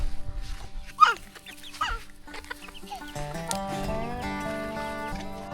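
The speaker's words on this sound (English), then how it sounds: "Chickens are very friendly, hanging around camp." Chickens wander around a campsite, with several close clucks and squawks early on, followed by softer cackling over a steady tonal hum in a quiet setting.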